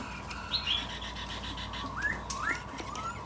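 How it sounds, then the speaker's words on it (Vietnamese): Large male cage bird giving a few short, clear chirps and whistled calls over a steady background hum, fairly close and moderately loud, with no talking. "Một em chim trống bộ khá là to đẹp luôn các anh ạ"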